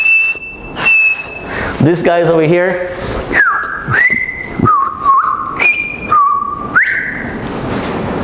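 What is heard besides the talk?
bellbird call, bonk and a whistle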